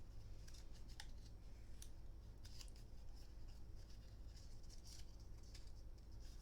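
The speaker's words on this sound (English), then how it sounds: "Just folding." Paper being folded for a handmade spring card: soft, faint creases and crisp slides in quick irregular bursts, close up against a low steady hum, with no talk.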